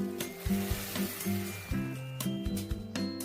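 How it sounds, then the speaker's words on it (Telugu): Peanuts roasting in a pan for peanut chutney, a continuous loud frying sizzle close by with rhythmic stirring scrapes and light clinks throughout. "ఈలోగా ఉప్మా కాంబినేషన్ పల్లీల చట్నీ కోసం పల్లీలు వేయిస్తున్నాను"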